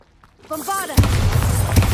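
A Bombarda explosion spell from Hogwarts Legacy: a short whooshing charge-up followed by a sudden loud, close boom that rumbles on, with a second thud shortly after.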